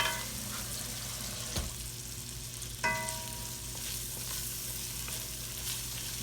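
Flour and oil sizzle and fry in a pot for smothered pork chops, a steady close crackling hiss with a couple of brief clanks from stirring, no voices.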